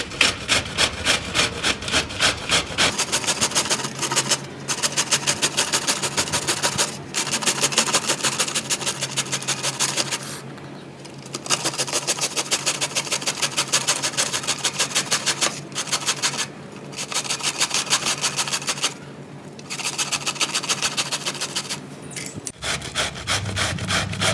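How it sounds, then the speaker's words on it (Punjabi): A bottle gourd (lauki) being grated on a kitchen grater, steady rhythmic rasping strokes repeating close up for most of the stretch with a few brief pauses, no talking. "ਹੁਣ ਆਪਾਂ ਇਹਨੂੰ ਕੱਦੂਕਸ਼ ਕਰ ਲਾਂਗੇ ਜੀ"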